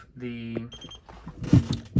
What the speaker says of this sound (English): when you hear that long beep, let go